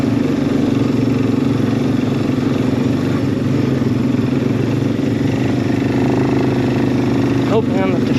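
A 2006 Suzuki Eiger 400 ATV engine in second gear on a trail, with a loud, continuous rumbling drone close by and a faint voice now and then.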